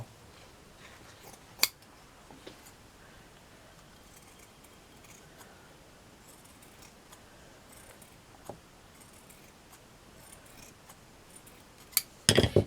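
Scissors snipping ribbon, a few sharp isolated snips spread across a quiet room, with a quick cluster of cuts at the end.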